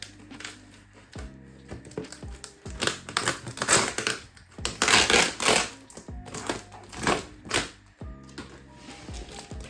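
Crinkling, tearing and crushing of packaging as a heavy shipped parcel from an overseas haul is opened, with bursts of loud rustling and ripping close up and brief pauses between.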